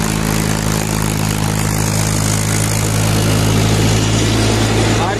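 A Mahindra 575 tractor engine drives a thresher, a loud steady drone with a constant low hum running throughout, close by and continuous.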